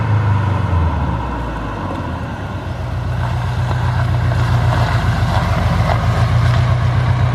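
A tuned Subaru Impreza with a 2.1-litre stroker engine making about 506 bhp rumbles with a deep, steady, loud idle-like drone, close by, with no talking.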